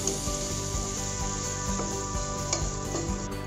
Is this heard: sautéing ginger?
yes